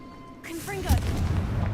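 A Confringo fire spell bursts in the video game Hogwarts Legacy: a short whoosh and then a deep boom with a crackling tail, close and loud, with brief game sounds at the start.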